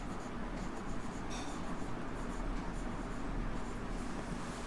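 Marker or chalk writing numbers on a board during a maths lesson, a continuous close scratchy scraping that runs throughout with no speech.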